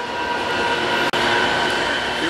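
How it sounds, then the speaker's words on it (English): A westbound Union Pacific intermodal freight train roars past at speed through Rochelle, a steady loud rushing rumble with a high brake squeal sustained over it, close by and continuous. "Here we see a westbound Union Pacific intermodal train screaming through Rochelle."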